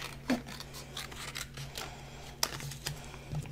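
Scissors cut paper for a handmade pop-up shadow box card, giving a few soft, close snipping and rubbing sounds over a faint, quiet background.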